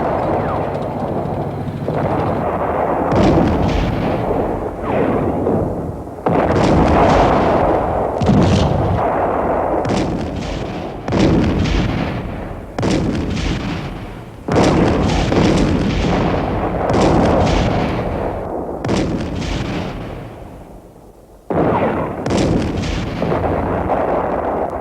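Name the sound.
heavy artillery fire in battle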